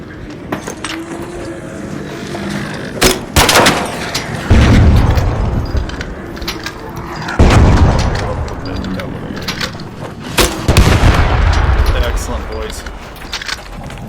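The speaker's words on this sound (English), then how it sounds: "Oh man, the rate of fire is nuts." Rapid gunfire in the video game Arc Raiders; repeated booming bursts and sharp cracks over several seconds, loud and close, mixed with mechanical clatter, while a voice talks over the action.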